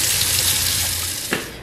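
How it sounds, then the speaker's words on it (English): Tap water runs steadily into a sink as hands are washed in a home kitchen, a close, continuous splashing gush with a brief louder splash near the end. "So let's wash our hands"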